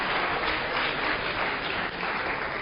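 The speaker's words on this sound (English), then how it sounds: "Let's have a round of applause." A lecture-hall audience at an economics class breaks into steady, dense applause that holds evenly for a few seconds, a continuous wash of many hands with no voices standing out.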